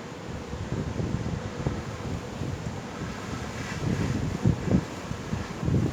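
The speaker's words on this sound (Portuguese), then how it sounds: "Olha, gente, o vento subia, viu?" Strong storm wind gusts through a town in Ouro Fino during heavy rain, a steady broadband roar that swells louder near the end, with no voices.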